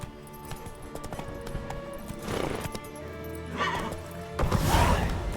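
Geralt's horse Roach trots in The Witcher 3, with rhythmic hoof clip-clops under ambient game music and a couple of louder hoof or gear bursts toward the end.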